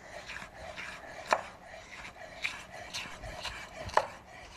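A knife slices bell peppers on a cutting board, with a soft, irregular series of light cuts and a few sharper taps, quiet and close.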